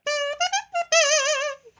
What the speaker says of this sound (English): Playing just the reed.